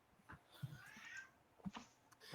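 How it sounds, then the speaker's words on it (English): A cat shut inside a closet meows, faint and muffled, in a couple of drawn-out cries behind the closed door. "I just hear this meowing."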